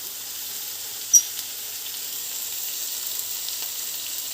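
Kerala-style beans fry in a pan with pepper powder, giving a steady high hiss of sizzling with one brief clink near the start.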